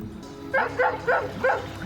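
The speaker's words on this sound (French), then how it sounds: "C'est un vrai chien anglais" A dog, an English breed, gives four quick, evenly spaced barks or yips nearby while running alongside a canal houseboat in Lacroix-sur-Meuse, France, over a low steady motor hum.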